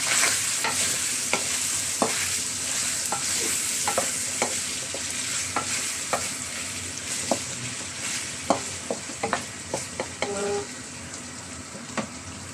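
Pork humba is stirred in a frying pan under a constant, close sizzle, with a spoon tapping and scraping the pan in irregular strokes that grow more frequent toward the end. No one speaks.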